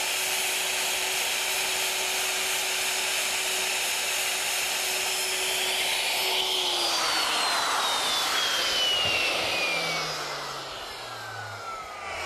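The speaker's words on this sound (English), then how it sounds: "We're routing the through mortises in our legs." A handheld router fitted with a carbide bit cuts through mortises in wooden legs for an Arts and Crafts style ottoman, giving a steady loud whine that winds down near the end.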